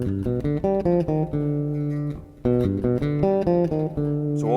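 A classical phrase played fast on bass guitar, a quick run of picked notes with one held tone in the middle, close and clear with no talking.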